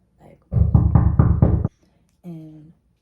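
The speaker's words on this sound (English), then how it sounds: "we just hear this bang on the door" A heavy banging knock on a classroom door, four loud close thuds in quick succession, followed by a short vocal sound afterward.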